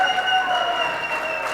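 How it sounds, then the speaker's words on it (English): Steady crowd roar and applause at a 9-ball pool match at the International Open, a sustained wash of clapping and cheering throughout. "big roar from the European crowd"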